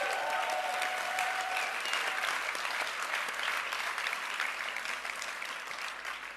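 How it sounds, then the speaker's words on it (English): A crowd at the close of an event breaks into dense, continuous applause that holds steady for several seconds and then gradually thins and fades toward the end. "Please give the events team a huge round of applause."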